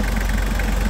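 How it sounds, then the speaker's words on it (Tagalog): A 2005 Toyota Super Grandia van's engine idles steadily, a close, continuous low rumble with a faint regular knock and no voices over it. "Makina ng ating Super Grandia."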